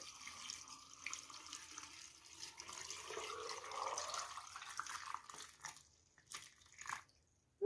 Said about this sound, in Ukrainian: я набрала холодної води з керниці і заливаю сюди в баночку на сіль